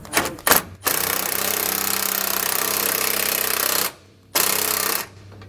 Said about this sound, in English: hold the nut while I tighten up the bolt on the front side